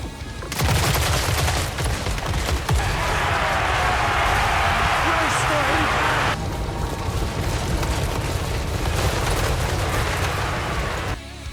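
Rifleman units firing in Total War Warhammer 3, with a dense, continuous fusillade of rifle volleys rolling on for the whole stretch, loud and close, under a steady battle roar.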